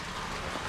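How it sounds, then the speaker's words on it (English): Steady rain falls in a muddy rural spot near a church along a Georgia motorcycle trail, a soft, even hiss of drops with no other clear sounds. "it's raining pretty good"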